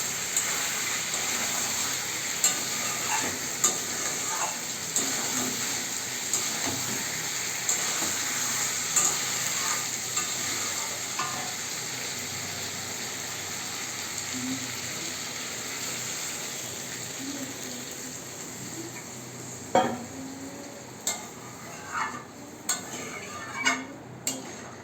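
Chicken and bottle gourd cooking in a pan for a Bengali lau chicken curry, a steady close sizzle under repeated scraping stirs and a few sharp utensil knocks toward the end.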